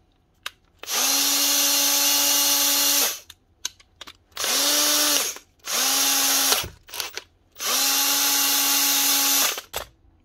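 A repaired cordless drill runs in four bursts, a loud whining motor spinning up, holding steady and winding down, with quiet gaps and small clicks between.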